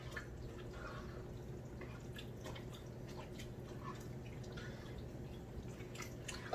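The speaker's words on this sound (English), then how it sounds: "Give that a stir" A spoon stirs a pot of sauce with sauteed onion and garlic, making soft, continuous wet sloshing and faint dripping at low volume, with no one talking.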